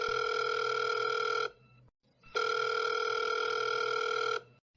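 A cartoon telephone rings in two long electronic bursts, each about a second and a half, separated by a short gap, loud and clear with no voices.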